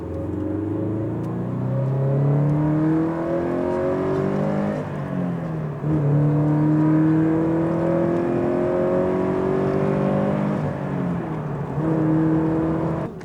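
A Toyota GT86 with a manual gearbox is driven spiritedly, its engine note climbing through repeated rising pulls with brief dips at each gear change, loud and close from inside the car, with no talking.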